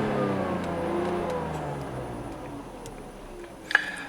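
A car engine run by an MS43 ECU revs up and then slowly winds down, its pitch falling across the clip, with a sharp click near the end.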